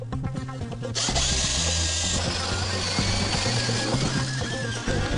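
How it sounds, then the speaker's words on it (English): A power drill with a 2 9/16 inch bit bores through wood, a loud sustained grinding whine that starts after a short lead-in and runs steadily to the end, close up with no voices. "We're gonna drill right through there at this point with the 2 9/16 drill bit."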